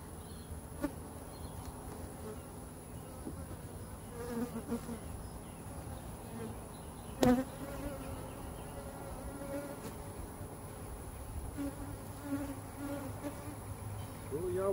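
Honeybees buzz steadily around a hive, a soft continuous drone with individual bees passing close now and then.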